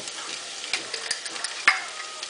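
Vegetables and garlic softening and toasting in a frying pan give off a faint, steady sizzle with scattered small pops and ticks, no voices.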